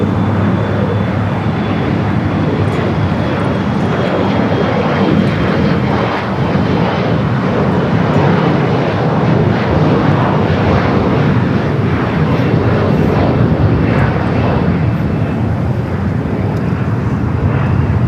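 A SkyWest jet takes off from runway 25 Right at LAX, a loud, steady engine roar with broad rushing noise that holds strong and unbroken throughout, close to the listener.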